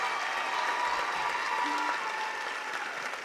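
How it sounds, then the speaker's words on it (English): Steady applause from a large audience at the 2018 Miss Arkansas pageant, honoring the teen contestants, a dense continuous patter of clapping with crowd murmur that holds at even loudness throughout. "One more round of applause for our teen contestants."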